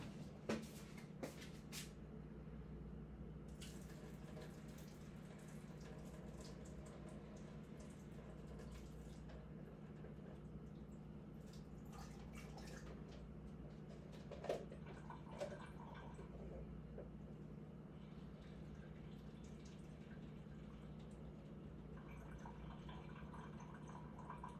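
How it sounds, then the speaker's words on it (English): Hot water is drained off cooked noodles, giving a quiet, steady running and dripping wash with a couple of small clatters partway through. "So, I'm gonna go drain this water"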